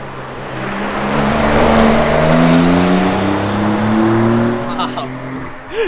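Porsche 992 Carrera 4S sweeping past with a loud, rising engine note that holds then fades, with chatter over it and a short squeal at the end.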